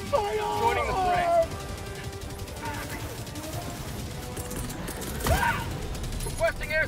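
Gunfire and mechanical clatter from the video game Helldivers 2 run under a busy battle mix, with rapid bursts and metallic clicks, plus a few sharp tonal effects, while voices speak throughout.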